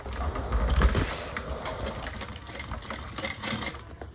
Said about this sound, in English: Push down on your bag and get sewing here.